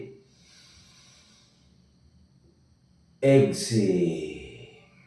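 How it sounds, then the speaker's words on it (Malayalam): Deep forceful exhalation during a breathing exercise for heart health, heard as a loud rushing breath out after a quiet stretch, close to the microphone and fading away over its last second. "ശ്വാസം പുറത്തേക്ക് കളയാൻ പൂർണ്ണമായി നമുക്ക് കഴിയുന്നതിൻ്റെ പരമാവധി ശ്വാസം പുറത്തേക്ക് വിടാനായിട്ട് ശ്രമിക്കുക"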